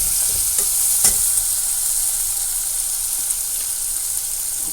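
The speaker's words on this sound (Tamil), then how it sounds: "கரண்டி வச்சு கிண்டி கொடுக்குறோம்" A ladle stirs a spice mixture frying in a pan, giving a steady close sizzle with a few scraping strokes and no talking.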